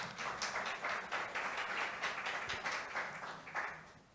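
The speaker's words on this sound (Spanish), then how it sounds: "Pido un aplauso" Faint, distant applause rises from an audience at a history lecture on Sarmiento and yellow fever, a steady patter of many hands clapping for the speaker.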